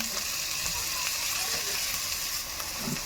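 Wild native mushrooms and onion paste fry in a pan, giving a soft, steady sizzle close by with faint stirring.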